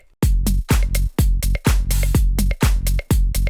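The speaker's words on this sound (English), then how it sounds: "This is just a very simple and classic clave pattern that I'm using." Sharp, bright wooden clicks strike in a steady syncopated pattern, about eight hits evenly spread, loud and close with no other instruments.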